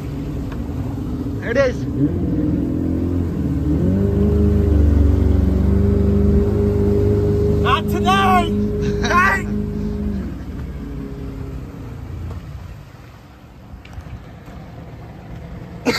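An engine revs hard and steadily for several seconds as the driver gives it gas, likely a boat or truck out on a very low tide, with voices talking over it before it drops back to idle.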